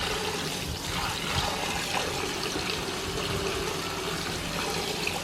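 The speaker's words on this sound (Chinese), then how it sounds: "把白菜全部给它清洗干净就差不多了" Napa cabbage being rinsed under running tap water in a kitchen, a steady splashing and trickling flow with soft sloshing, moderately quiet and continuous, with no talking.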